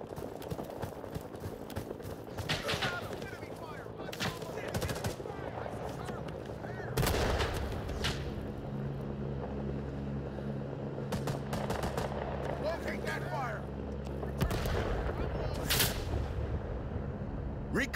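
Gunfire and artillery in the Vietnam-era shooter Rising Storm 2 during an attack on Highway 14: repeated sharp shots and automatic bursts crack over a constant battle rumble, with heavy booming blasts near seven and fifteen seconds and voices heard intermittently.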